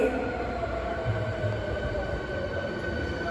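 An Osaka Metro Sakaisuji Line train stands at a station platform, giving a steady close rumble with a constant motor hum and faint tonal whine, no talk.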